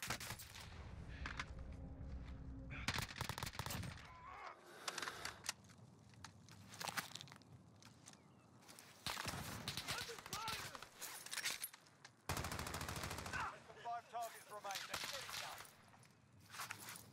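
Rapid bursts of gunfire in Call of Duty Warzone crack repeatedly in clusters, some close and loud, others fainter, mixed with footsteps and game voice callouts in between.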